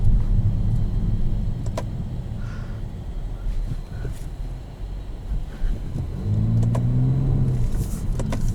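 A 2021 Nissan Maxima SR kicks down to a lower gear and accelerates, heard from inside as a steady low engine and road rumble with wind noise, the engine tone rising more strongly toward the end.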